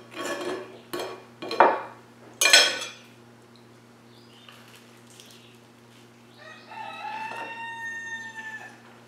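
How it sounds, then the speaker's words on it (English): A rooster crows in the distance, a faint drawn-out call near the end, after a few sharp clinks of dishes close by. "The roosters are sending forth outside."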